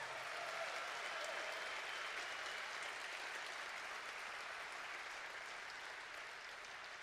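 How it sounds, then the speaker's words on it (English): Sustained applause from a crowd at a high school centennial homecoming event, an even wash of clapping with no voices, fairly distant and consistent throughout. "please give them a round of applause"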